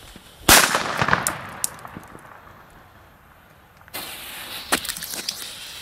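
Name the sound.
Weco Bombette firecrackers exploding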